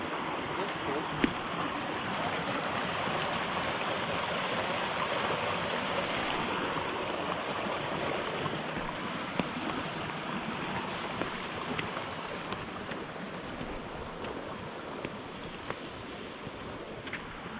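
Whitewater river rushing through the Ocoee Whitewater Center course in Tennessee, a steady broadband roar of churning water close by that holds constant throughout, with faint wind buffeting the microphone.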